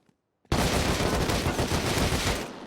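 Sustained rapid gunfire from a cheating player in the video game Rust, a dense continuous burst of loud shots starting abruptly after a brief silence and running for about two seconds.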